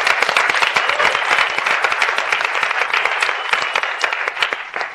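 Audience applause rings out, dense, loud and steady, many hands clapping together close by for the whole stretch without easing off.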